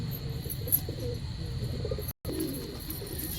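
Desi pigeons coo softly through steady outdoor ambience, with faint insect chirring behind and a brief cut of silence in the middle.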